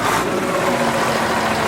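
A close, loud diesel rumble from an old Fiat 180 truck engine, throbbing and rough, held steady through a brief burst.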